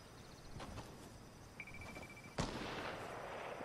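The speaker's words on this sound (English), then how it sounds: "I also hear some shooting." Distant gunfire in Fortnite, heard as faint scattered pops over a low background rumble, with one sharper, louder crack partway through followed by a lingering wash of noise.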